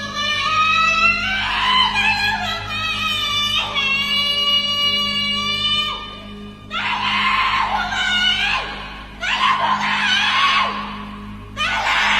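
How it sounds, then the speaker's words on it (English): A woman screams loudly and desperately, long piercing shrieks repeated with brief pauses between them, close and raw. "A woman screaming violently can be heard in the darkness"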